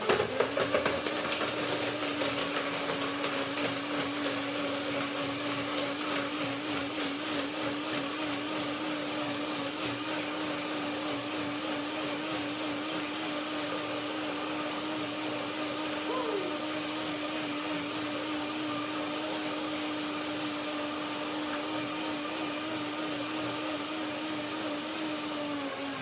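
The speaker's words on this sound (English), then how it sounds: "Blender dance to make my lemony cashew yogurt cream." A countertop blender whirs steadily while blending lemony cashew yogurt cream, a continuous high motor whine that holds for the full stretch with a slight pitch wobble and no break.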